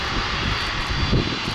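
A Delta heavy jet airliner powers up for takeoff on runway 30 left at Minneapolis airport, its engines a loud, steady roar with a deep rumble, heard alone.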